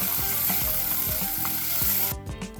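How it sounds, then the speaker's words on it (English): Onions, garlic and green pepper sauté in olive oil with a loud, dense, close-up sizzle and repeated rhythmic scraping as they are stirred; the sizzle falls away abruptly near the end. "we just want to saute this until it's nice and translucent"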